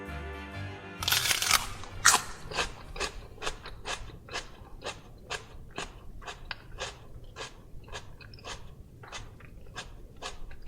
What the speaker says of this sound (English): It's the sound of a person eating celery.